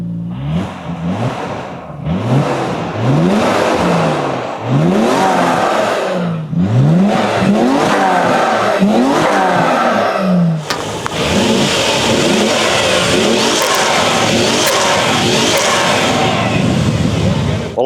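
A Nissan Skyline R33 GT-R 400R with a factory titanium exhaust revs repeatedly and loudly, sharp throttle blips rising and falling for about ten seconds before settling into a sustained high, rough engine roar.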